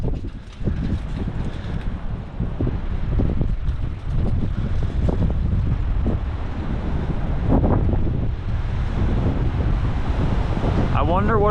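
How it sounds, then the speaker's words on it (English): A strong windstorm in the Ohio Valley gusts through a narrow gap between structures, roaring and buffeting the microphone in loud, continuous rumbling blasts, with faint voices underneath. "It's like a little wind tunnel right there."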